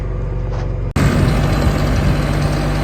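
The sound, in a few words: tractor engine idling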